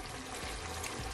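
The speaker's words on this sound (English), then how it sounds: "This is how I'm gonna add my rice." Dry rice is poured into a pot for a one-pot Jamaican stew chicken and rice, giving a steady granular pouring rush close up for about a second, with no talking.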